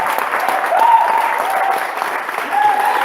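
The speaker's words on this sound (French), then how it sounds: "Acclame mon frère, parce qu'il a fait de grandes choses dans ta vie." A church congregation at Christ Embassy in Sangmelima, Cameroon, claps and cheers in steady, dense applause, with some voices shouting over it.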